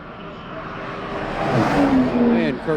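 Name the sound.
race cars on track at Summit Point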